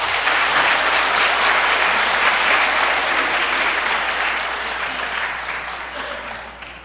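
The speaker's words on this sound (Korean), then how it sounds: "큰 박수 부탁드리겠습니다." Large church audience breaking into sustained, loud applause that fills the space, holding steady for several seconds before gradually tapering off.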